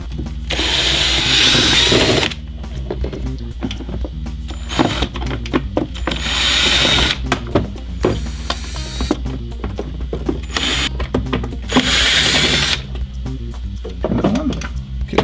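A power drill backs small screws out of an Arcade1Up mini arcade cabinet in loud, repeated whirring bursts of a couple of seconds each, separated by clicks and handling noises.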